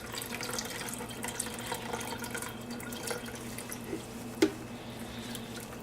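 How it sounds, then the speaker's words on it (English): Homemade soy milk squeezed by hand from the soybean pulp, producing a faint, steady trickle and drip with one small splash near the end and no talk. "you're just going to start squeezing gently, just like if you're making almond milk or coconut milk."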